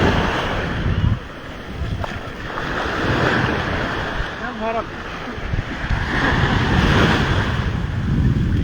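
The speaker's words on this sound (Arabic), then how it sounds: "البحر جميل جدا جدا" Sea waves wash onto the shore at the Retal View beach resort on Egypt's north coast, a steady rushing surf mixed with strong wind buffeting the microphone and faint distant voices.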